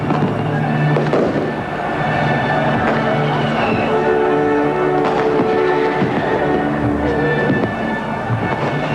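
Fireworks bursting across Germany during the reunification celebrations, a dense continuous crackle and pop of many explosions mixed with crowd noise and faint voices throughout.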